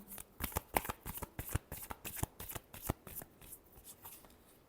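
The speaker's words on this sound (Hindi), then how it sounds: "last shuffle" Tarot cards riffle-shuffled by hand for a reading, a quick rhythmic flurry of crisp, close card snaps and flutters that slowly taper off.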